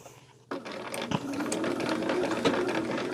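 A sewing machine runs close by, back stitching a quilt binding in Silverstone fabric from Robert Kaufman. It starts abruptly with a thump and then whirs steadily with a rapid needle clatter, and no one talks.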